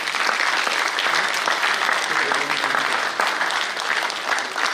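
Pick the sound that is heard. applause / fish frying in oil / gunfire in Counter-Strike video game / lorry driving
applause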